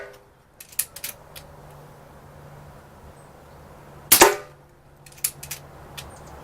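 A single sharp crack from a Diana Stormrider .177 PCP air rifle, close and loud against a quiet background, preceded and followed by a few faint clicks of handling.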